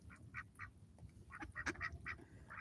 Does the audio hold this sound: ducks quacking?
yes